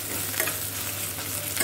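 Ginger and garlic fry in a wok after a splash of water is added, giving a steady sizzle broken by two brief scraping stirs, close and alone without voices.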